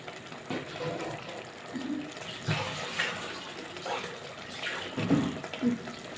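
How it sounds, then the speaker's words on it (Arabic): A cup of water is poured into taro simmering in boiling tomato sauce on a home stove. A soft, continuous splashing and bubbling wash runs throughout, close and fairly quiet. "هنزودها ايه بقى كوباية مية"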